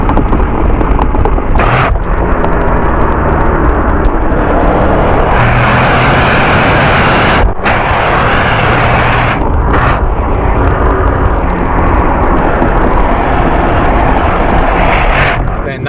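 A Chevrolet Corvette with its loud factory exhaust roars and revs hard, with brief dips between bursts as it shifts, the exhaust blaring close by.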